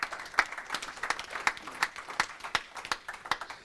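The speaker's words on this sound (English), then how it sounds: "Big round of applause." A small audience at a crypto trading talk gives a thin round of applause, a few distinct, separate claps ringing out quietly in a loose, uneven rhythm.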